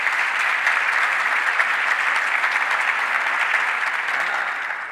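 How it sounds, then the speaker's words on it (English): A crowd applauds the state delegation at Governor Hochul's announcement event in Rochester, a dense, steady round of clapping that holds at an even level for the whole stretch before tapering slightly at the end. "Let's give our state delegation a round of applause as well"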